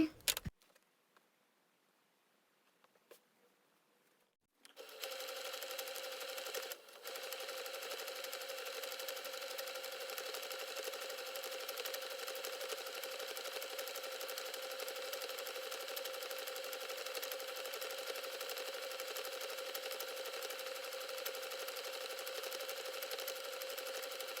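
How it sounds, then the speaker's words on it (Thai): A sewing machine stitches apron fabric in one steady, continuous run of fast mechanical whirring. It starts after a few seconds of near silence and a couple of faint clicks. "รีดเสร็จแล้วเราก็นำไปเย็บนะคะ"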